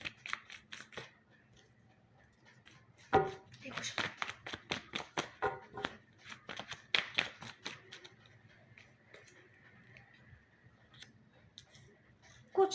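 Tarot cards being shuffled in a run of quick, crisp riffling flicks and taps at close range, lasting several seconds before fading, with only light background noise around them.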